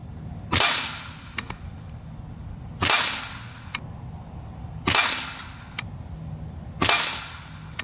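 Four sharp, loud shots from an Air Venturi Alpha PCP air rifle fired as a group, each a hard crack spaced about two seconds apart with a brief decaying tail and faint clicks between, no talking.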